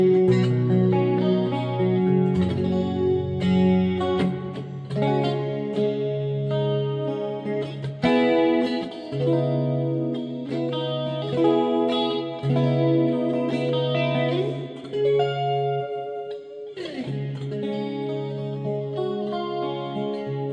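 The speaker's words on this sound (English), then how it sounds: "So now if you turn on the manual chorus, the famous jazz chorus." Clean electric guitar chords through a Roland JC-40 stereo combo amp with its Jazz Chorus effect, lush and shimmering, played continuously with sustained notes and a wide, wavering tone.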